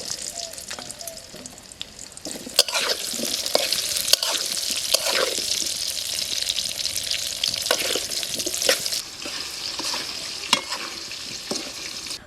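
Potatoes fry in white oil in a wok, giving a bright, continuous sizzle with sharp crackles and periodic scraping as they are stirred, close and loud, with no talking.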